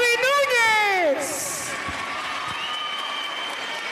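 Crowd at a basketball awards ceremony applauds and cheers, a steady wash of clapping and voices that starts under an announcer's loud call and then carries on alone, moderately distant.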